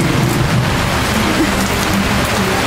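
Steady rain falling outdoors after a college softball regional game, a dense, even hiss of drops filling the whole stretch with no pauses and no voices.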